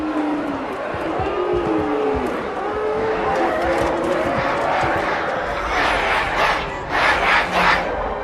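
A large crowd roars and shouts in a Halo video game cutscene, a dense, surging wall of voices with rising battle-cry swells, growing louder and more excited toward the end.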